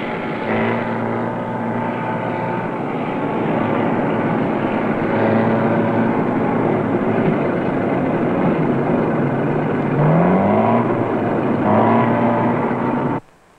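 A tractor engine runs with a steady droning hum as the machine moves along on its wheels, loud and continuous with a few tonal shifts, no voices over it.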